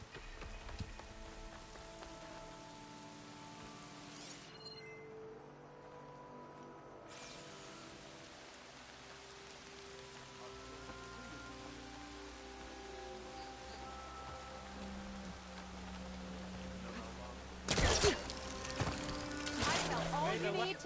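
Steady rain falls in the video game Horizon Forbidden West, a soft continuous wash with faint tonal background sounds and a brief louder burst near the end.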